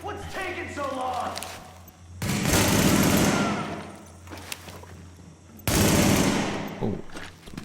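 Bursts of automatic gunfire in The Division, two long loud rattling volleys separated by quieter stretches where a voice and game sounds carry on.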